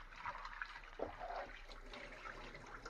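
Potatoes being rinsed and swished by hand in a bowl of water while cooking potato cutlets, with steady splashing and trickling that stays close and moderately loud for the whole stretch, with no talking.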